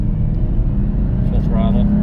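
Jeep Gladiator with a cold air intake revving in second gear toward 2000 rpm, a loud, steady low engine drone that rises slightly near the end, heard from inside the cab with a voice talking over it.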